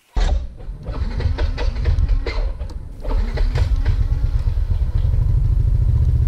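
A Yamaha NMAX 180cc scooter engine sputters to life and settles into a steady, rattling idle, loud and close throughout.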